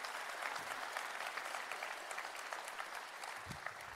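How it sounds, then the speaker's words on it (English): An audience at a 2022 honors ceremony applauds in a steady, dense wash of clapping that holds at even volume throughout, without speech over it. "So please give everybody a round of applause."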